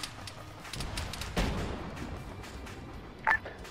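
Distant combat in Arma 3 with a T-72 tank engaged: scattered faint gunshots and thuds crackle throughout, one heavier boom near the middle and another sharp report near the end.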